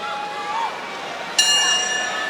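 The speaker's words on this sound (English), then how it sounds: "hears that history-ringing bell here at MSG" A single bright metallic boxing ring bell strike rings out partway through, ending round two at Madison Square Garden in Amir Khan vs Terence Crawford, its tone lingering over a noisy arena crowd.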